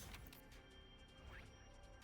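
Glass smashing in the video game Hundred Line: a few quiet crashing and breaking hits scattered across a faint, steady background.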